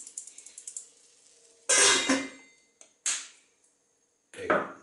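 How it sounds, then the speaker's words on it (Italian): A person coughs while cooking burgers in a kitchen, with a few loud harsh bursts separated by quiet gaps, following faint light clicks and taps at the start. "chiedo scusa per la tosse"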